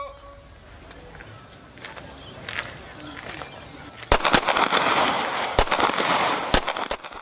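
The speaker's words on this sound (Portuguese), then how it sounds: "halau treinamento tiro confiança, usa bala real" Live-fire gunshots ring out at a police special unit's anti-terrorism shooting training in Dili. Faint pops come first, then a run of loud, sharp bangs fires in quick, irregular succession in the second half.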